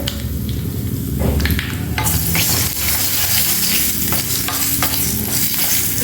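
A tempering of chana dal, urad dal, mustard seeds, cumin and a dried red chilli sizzles loudly in hot oil, a dense crackling hiss that flares up after a couple of seconds, with a few stirring scrapes close by.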